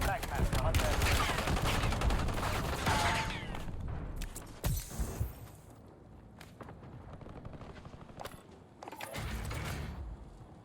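Kilo assault rifle fire in Warzone on Rebirth Island comes in rapid automatic bursts, loudest at the start, then in shorter sporadic volleys with mechanical clatter and a voice talking over it.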